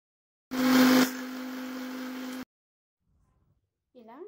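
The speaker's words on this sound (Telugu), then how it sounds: "వాటర్ పోసి దీన్ని గ్రైండ్ చేసుకుందాము" A kitchen mixer grinder whirs loudly for about two seconds as it blends green chillies and ginger with water, then cuts off abruptly. A voice is heard briefly afterward.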